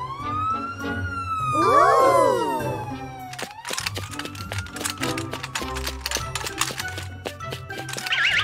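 A cartoon ambulance siren wails, sweeping up and down, joined by a rapid warbling tone, with a clattering, crackling cartoonish sound effect and light music underneath.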